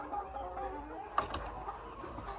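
A few soft, low clucks from chickens close by, with a brief sharper peep partway through; quiet overall.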